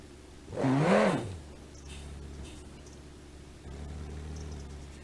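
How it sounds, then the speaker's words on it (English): Truck engine in BeamNG.drive revving hard in a short rising-and-falling burst, then settling to a low steady drone that swells again near the end, moderately loud and without speech. "It does all-wheel drive burnouts."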